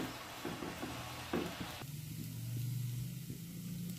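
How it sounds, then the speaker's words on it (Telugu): Grated coconut frying with methi in a pan, a steady sizzle broken by scraping stirs, then a brighter crackle that carries on as the mixture cooks, close and fairly quiet. "కొబ్బరి తరుగు అంతా మిక్స్ చేసుకొని ఒక 2 మినిట్స్ ఫ్రై చేయాలి"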